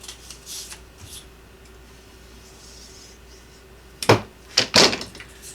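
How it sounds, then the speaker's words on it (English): A bone folder creases bent paper, giving quiet scratchy rubs early and then several sharp, close scraping strokes in quick succession toward the end. "use my bone folder to crease it down"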